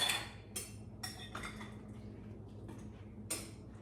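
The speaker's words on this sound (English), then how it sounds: "I'm going to add the potatoes to the pot" Metal and ceramic clinks as 4 cups of diced potatoes are tipped into a pot of Brunswick stew, a few sharp clatters spaced over a few seconds against a low steady hum, fairly quiet and close.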